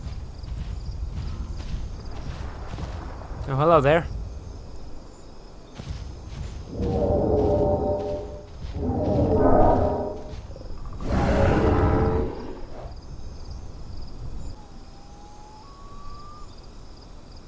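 Dinosaurs moving close by in the survival video game The Isle, with several loud, heavy rumbling calls and footfalls in a row over quiet ambience, and a brief spoken greeting.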